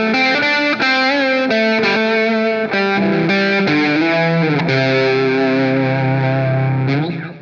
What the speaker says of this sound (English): And it just kind of slides in between those two boxes, that main riff right from the get-go.